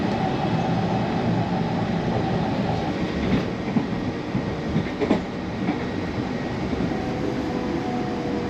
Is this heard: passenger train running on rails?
yes